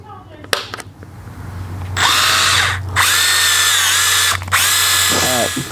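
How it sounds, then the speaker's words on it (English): A power drill bores holes through a link skid plate for a dirt bike, using the stock skid plate holes as a guide; loud whining bursts of drilling start and stop three times, with short pauses and a rattle of handling between them. "I'm gonna use the stock holes on the skid plate to put holes into the link skid."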